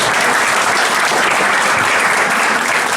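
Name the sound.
audience applause after a music performance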